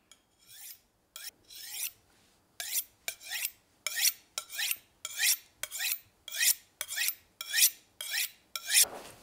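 A kitchen knife is drawn from heel to tip along a honing steel in about a dozen crisp, rasping metal strokes. They come at an even rhythm, close and clear against quiet, with a louder scrape at the finish.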